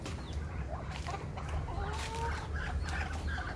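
Several native chickens cluck and murmur softly nearby in a steady, overlapping chatter, with a faint low background hum.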